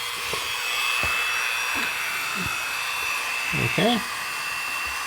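A drill bit whines steadily as it bores into a 1:1400 scale U.S.S. Enterprise NCC-1701-C model starship kit, a continuous high motor tone with a few short scraping accents and a brief spoken word.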